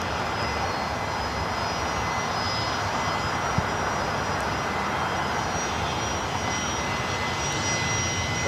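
An arriving aircraft at LAX, inbound from Van Nuys, produces a steady, moderately loud engine roar with a faint high-pitched whine, continuous and unchanging throughout.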